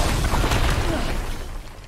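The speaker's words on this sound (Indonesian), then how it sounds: "ledakan barusan diakibatkan oleh kerusuhan yang melibatkan antara Fedra dan Firefly" A loud explosion from a riot clash between FEDRA and the Fireflies in The Last of Us series, a dense, booming low rumble that stays heavy and roars on for about two seconds before easing slightly.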